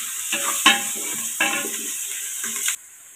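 Beef paya sautéing in a pan, stirred in scraping bursts with a steady sizzle beneath, close and moderately loud, ending abruptly.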